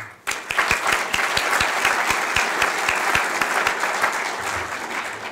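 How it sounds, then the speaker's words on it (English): Sustained applause from a room full of people at a college all-staff meeting, steady and fairly loud, with a few sharp claps standing out, fading slightly at the end. "I'd like to just have a short round of applause for all of those folks"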